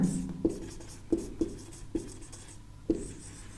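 Chalk or marker writing a table on a board in a chemistry lesson, with a few separate taps and short strokes spaced irregularly, close and moderately loud, with no talking.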